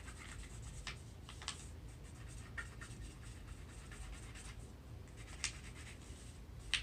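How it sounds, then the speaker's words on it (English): Side of a pencil rubbed back and forth across paper laid over a fossil, giving a soft, steady scratchy rasp with a few sharper strokes, close up and with no talking. "if you hold your paper down on either side and you rub it like this"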